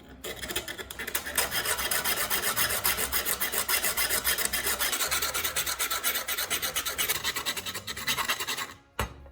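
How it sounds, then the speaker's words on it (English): A hand file is worked back and forth to smooth burrs from the edge of a drilled hole, giving a loud, close, rapid rhythmic rasping that runs continuously for several seconds before stopping abruptly. "After drilling, don't forget to take a file and carefully smooth out the edges."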